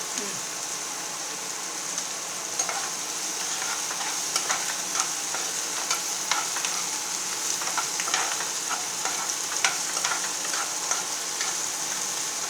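Onions and chillies sauté in a pan for a Tamil egg finger fry, giving a steady soft sizzle. Occasional crackles and stirring scrapes come through the sizzle at moderate volume.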